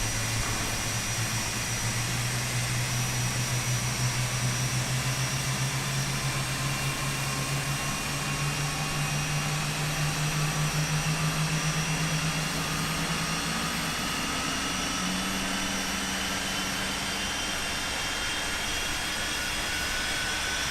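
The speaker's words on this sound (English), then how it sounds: "we should get some pretty nice engine startup sounds too" Jet engine on a Working Title 748F airliner spooling up during startup in Microsoft Flight Simulator 2020, a long steady whine climbing gradually in pitch over a low rumble, continuous and loud, no talking.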